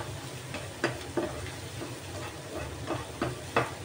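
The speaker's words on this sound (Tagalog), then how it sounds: "Kaya medyo papupulahin natin itong ating bawang." Garlic fries in a pan for a burger steak topping, a steady close sizzle with several sharp clicks of stirring against the pan.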